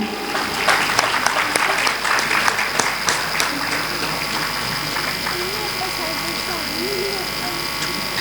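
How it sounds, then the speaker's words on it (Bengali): An audience applauding at an award ceremony, a dense clapping burst that is strongest early and then fades into a softer, thinning patter with faint murmur underneath. "একটু জোরে হাততালি হতে হবে কিন্তু"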